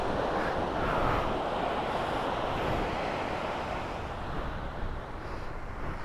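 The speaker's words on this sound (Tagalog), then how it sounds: "Malakas ang hangin." Strong wind by the sea buffets the microphone in a continuous, loud, broadband rush, with surf faintly mixed underneath and no voices.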